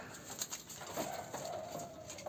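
Caged domestic pigeons of a breeder's loft coo softly, low murmuring calls repeating over a faint background hiss, quiet and close.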